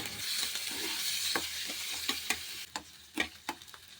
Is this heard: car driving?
no